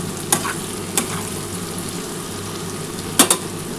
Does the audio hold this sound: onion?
yes